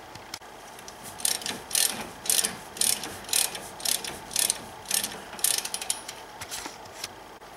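A hand ratchet tightens the bolts on a BMW X5 E70 front brake caliper during a pad and rotor job, a close series of rapid clicking bursts in an even back-and-forth rhythm, no talking.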